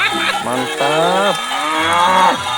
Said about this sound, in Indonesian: Ada dua sapi besar, sapi lucu